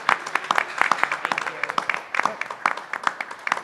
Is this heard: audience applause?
yes